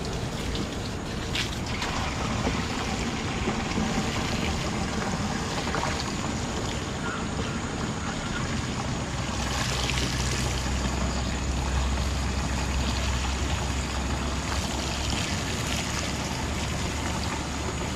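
Water pours steadily into a 16-liter knapsack sprayer outdoors in a rural setting, a continuous close splashing rush that runs unbroken throughout with no talking.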